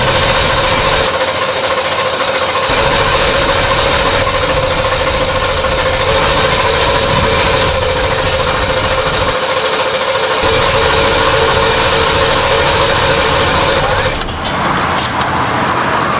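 A 7.3L Powerstroke diesel engine fitted with new injectors runs loud and close at a steady idle, with a constant low drone and a brief shift near the end.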